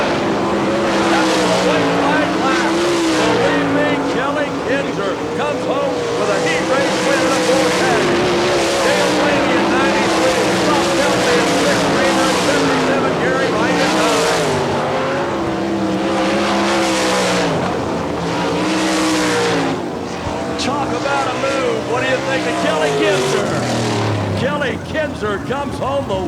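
Sprint cars roar loudly around a dirt track during the All Star Circuit of Champions Florida Speedweek at Barberville, engines droning and rising in pitch as they pass on the white flag lap, with an announcer talking over the racing.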